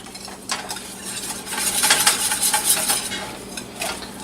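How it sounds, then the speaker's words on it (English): A whisk beats Welsh rarebit cheese sauce in a pan, with close, rapid metallic scraping strokes that build after a first tap and continue in uneven bursts, alone without speech. "We're gonna whisk that in real good."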